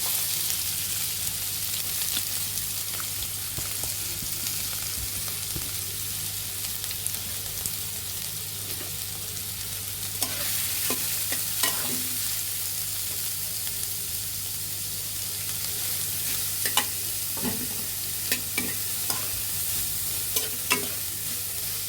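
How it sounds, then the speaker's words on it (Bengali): Carrots, onion and green chillies sizzle steadily in hot white oil in a wok over low heat, with occasional scraping stirs of a spatula against the pan, close up and continuous. "কড়াইতে এক চা চামচ পরিমাণের মতো সাদা তেল দিয়ে দিয়েছি"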